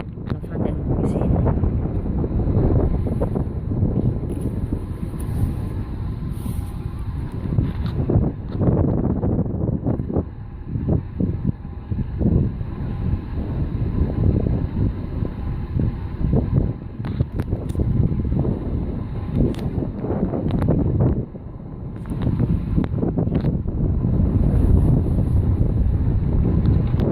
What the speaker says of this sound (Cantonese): 哇，好大風